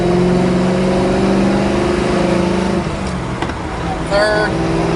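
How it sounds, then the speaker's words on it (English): A 1971 Chevrolet Nova SS pulls away with the clutch engaging and shifts up to second gear, its engine note rising steadily, loud and close from inside the car, then dropping off with the gear change. "So again, the car pulls out, the clutch engage is nice. Again, second gear."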